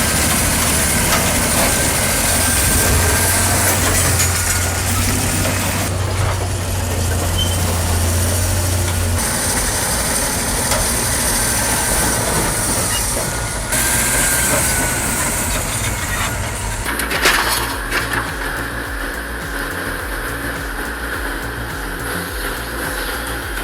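A Caterpillar D11R bulldozer pushes a boulder down a steep slope, its diesel engine a heavy, rough drone with a slight misfire. Clanking and scraping come and go, and a sudden loud burst of noise rises near the end.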